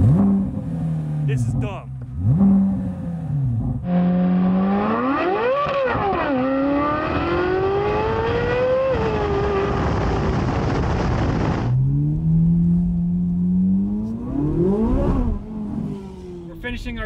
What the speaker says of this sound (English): you don't need to look up how to make a C5 rev. You just hit the gas.